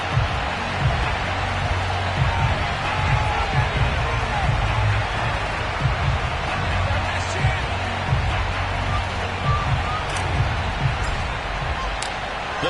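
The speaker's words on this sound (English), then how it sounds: "The folks in Buffalo love their night of this sold-out crowd." Sold-out night-game stadium crowd in Buffalo for an EA Sports NFL football video game, Bills versus Dolphins, a steady dense roar throughout while a commentator talks over it.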